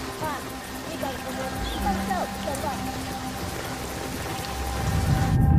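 Heavy rain pouring down in a dense, constant hiss with possible low rumbles of thunder, growing louder toward the end, while speech plays over it.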